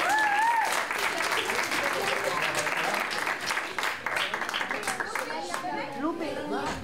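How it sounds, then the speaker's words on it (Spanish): Crowd applause at a Three Kings parade event in San Roque, sustained loud clapping from many people with cheers and voices mixed in, easing slightly toward the end. "Tenéis que aplaudir fuerte, ¿eh?"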